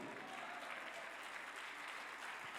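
Church congregation applauding together, a steady dense wash of clapping filling the whole stretch with no voices breaking through.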